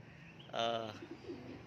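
A single soft coo from a racing pigeon arriving at its loft during a derby, faint and brief, with quiet rustling around it.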